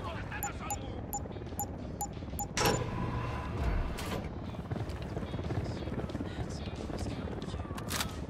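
A helicopter's rotor chops steadily through the whole stretch in the video game Ghost Recon Wildlands, with a burst of impacts and clatter around the middle and speech over it.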